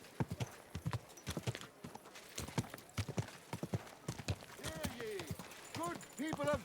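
Horse hooves clip-clop in the video game Kingdom Come Deliverance 2, sharp rhythmic hoof knocks close by, with someone speaking over them near the end.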